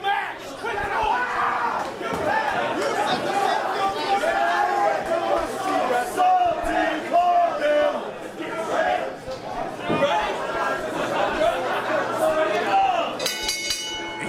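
A wrestling arena crowd boos and chatters loudly at ringside during a three-way contest, a sustained roar of mixed voices filling the hall throughout.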